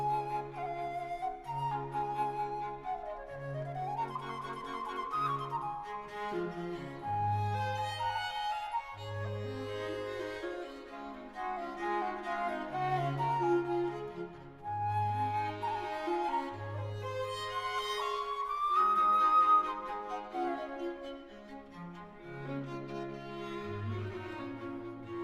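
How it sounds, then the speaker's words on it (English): Mozart flute quartet Allegro on a 1770 Grenzer flute of ebony and ivory, the gentle period flute carrying a lively melody over plucked and bowed strings, with a steady pulsing bass, close and continuous. "The flute has that pop to the stopped tone that we get from a recorder"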